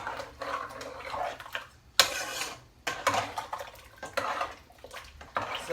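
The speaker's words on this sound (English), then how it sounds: "So we're going to mix all this together." Peach cobbler ingredients are stirred together in a bowl in a home kitchen, making soft intermittent swishing scrapes and one sharper clink, all fairly faint and close.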